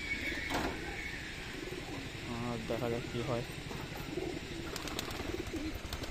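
Domestic pigeons, including a Beldanga bird nesting on eggs in a home loft, give repeated soft throaty coos close by, mixed with rustling, while someone speaks over them.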